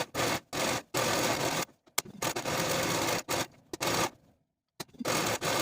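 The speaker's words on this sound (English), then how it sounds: "serge the entire perimeter of our front and back pieces." A serger overlocks the edges of blouse fabric pieces in several short bursts of rapid stitching, each run separated by brief pauses and quiet handling, close by and with no talking.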